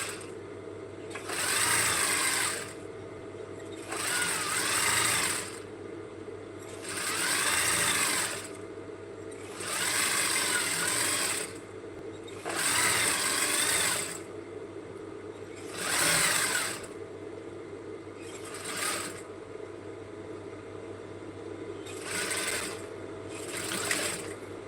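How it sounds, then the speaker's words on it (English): A sewing machine top stitches elastic onto an A-line dress, running in about nine short bursts of fast, close, even needle clatter separated by quiet pauses, with no talk. "So I'll place the elastic this way at the end, top stitch on it, then I'll drag it as I sew on that line we'll mark."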